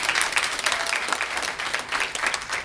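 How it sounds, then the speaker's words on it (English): A church congregation applauding to welcome guests: dense, steady clapping from a large crowd, filling the room at moderate loudness throughout, with no speech over it. "welcome all of our guests with a rousing round of applause"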